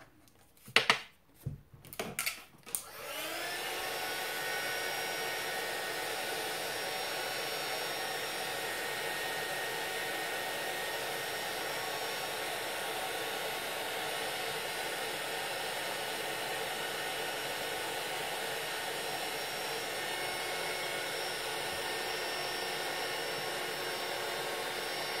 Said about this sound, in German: Das werde ich schnell föhnen.